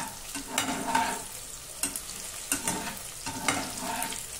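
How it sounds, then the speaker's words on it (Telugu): Bitter gourd slices fry in oil and are stirred in a pan, a continuous sizzle punctuated by rhythmic scraping strokes of a spatula every second or so. "ఈ విధంగా తిప్పుకుంటూ వేయించుకోండి."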